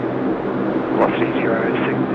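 A Velocity airliner roars down runway 16 right at Sydney Airport on its night takeoff, a loud, continuous engine rumble heard up close beneath a person talking.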